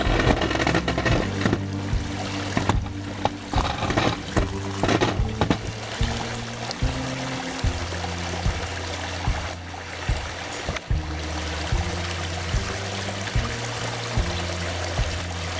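Water and gravel pour through a highbanker sluice during gold mining in Washington State, a steady loud rushing flow with gurgling and knocking from the moving material and a low pump drone running throughout.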